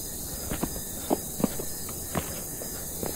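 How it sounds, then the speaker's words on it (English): Crickets chirp faintly in the dark inside a facility, a thin continuous buzz under a handful of soft, scattered footfalls or thuds. "It's completely dark and only the chirping of the crickets can be heard"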